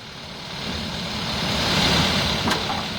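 A vehicle approaches in the horror video game Evil Nun, a steady low engine rumble swelling louder as it nears, with a brief sharp click partway through.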